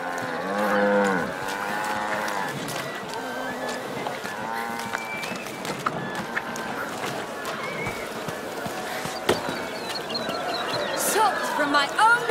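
Cattle moo repeatedly at a cattle fair in the video game A Plague Tale: Requiem, several calls rising over a busy crowd murmur with background music and voices throughout.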